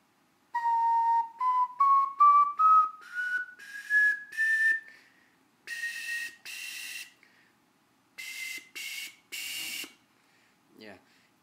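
A glazed ceramic ocarina with Middle Eastern decor plays pure whistle-like notes climbing a scale step by step. Brief higher, breathier tones follow, and a short faint sound comes at the end.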